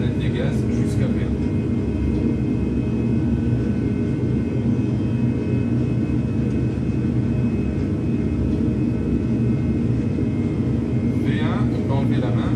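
Airbus A320 jet engines roaring steadily through a takeoff roll, a dense, constant broadband rumble heard from the cockpit, loud and unbroken throughout with faint higher whines near the end.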